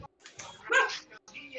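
A Christmas puppy from a breeder yips and barks in a short, close burst of high, excited sounds, with speech nearby.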